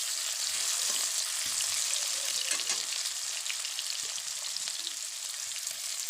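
Chopped onions fry in hot oil in a wok, a dense continuous sizzle with faint crackles and light stirring, close and steady throughout, with no talking.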